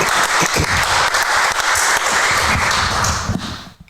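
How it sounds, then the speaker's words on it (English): An audience at a live show applauds a guest in a full, continuous wash of clapping that fades out near the end. "how about a round of applause for Mark Van Patten, everybody"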